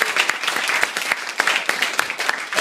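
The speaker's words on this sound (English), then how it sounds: "want everyone to have a big round of applause" Wedding guests applaud the best man at a wedding speech: dense, steady clapping fills the room, close and loud, with brief louder bursts throughout.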